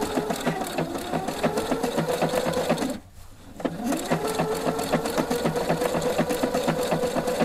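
A Husqvarna Viking sewing machine fitted with a Spanish hemstitch foot stitches with a fast, steady mechanical whir and clatter, pausing briefly in the middle before running again at the same even pace.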